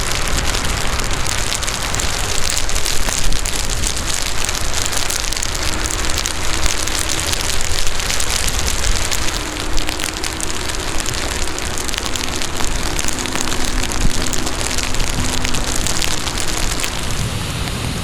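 Heavy rain hisses continuously during a ride on an Inmotion V14 electric unicycle, a dense, loud, unbroken wash of drops striking surfaces with a faint low hum beneath it.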